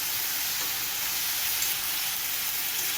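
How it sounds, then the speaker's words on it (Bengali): Water lily stems frying with salt and turmeric in a pan, a constant close sizzle and crackle of oil, even and unbroken throughout. "নুন দিয়ে দিলাম শাপলায়, আর হলুদ দিয়ে দিলাম। এটা ভাজা হবে"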